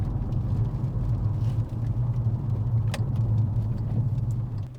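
A VW Golf GTI Edition 35 with an upgraded exhaust idles close by in a loud, steady low rumble, the engine note swelling slightly in a couple of mild revs.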